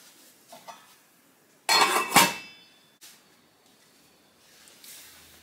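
A lid is set onto a pan of Spanish rice on a stovetop, a sharp metallic clatter and clink up close lasting about half a second, followed by a small tap and quiet kitchen background.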